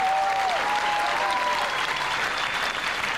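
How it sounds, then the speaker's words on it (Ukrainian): A comedy club audience breaks into sustained applause, a broad even wash of clapping held throughout, with faint sliding musical tones over the start. "Ваші оплески, Леся, Рома."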